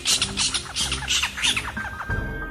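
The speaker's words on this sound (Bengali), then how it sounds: "ছাতিম গাছটা থেকে একটা হুতুম পেঁচা জোরে ডেকে ওঠে।" A horned owl's call from a tree in a moonlit village in a Bengali horror cartoon: a close, loud run of harsh, rasping squawks repeated rapidly for a couple of seconds.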